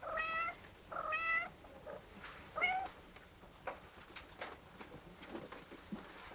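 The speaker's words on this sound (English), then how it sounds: "My poor kitties." Several cats meow in short, close bursts, with a couple of loud cries early on and quieter mews and small shuffling sounds after, with no talking.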